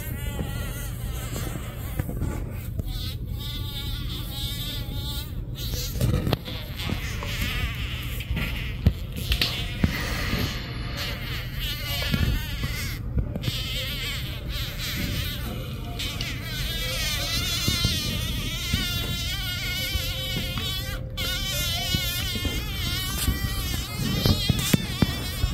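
A bee caught in a northern black widow spider's web buzzes in erratic, wavering bursts, close and fairly loud, with occasional clicks and rustles and no talking.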